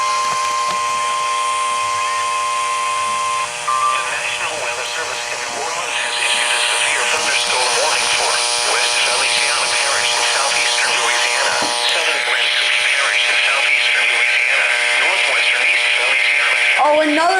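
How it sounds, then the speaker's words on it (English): An Emergency Alert System tone carried over a radio relay holds a steady, piercing pitch for a few seconds, then gives way to noisy, buzzing broadcast audio with a voice mixed in. "I can hear EAS tones again."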